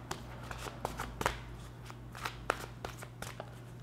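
Tarot cards being shuffled by hand, a close series of crisp riffling and slapping bursts in an uneven rhythm over a faint low hum, with no speech.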